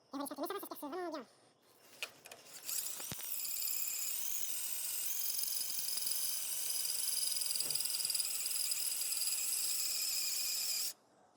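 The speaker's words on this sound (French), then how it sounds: "Mais ça va, ça se perce vraiment bien." An electric drill bores into an aluminium sailboat mast during a boat restoration. After a brief voice and a few knocks, a loud, high, steady drilling whine runs for about eight seconds, then stops abruptly.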